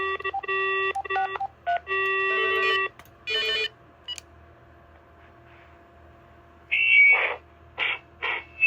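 A cordless phone runs through a string of DTMF dialing tones, several steady beeping bursts, then a pause and more short higher electronic tones; loud and close, no talking.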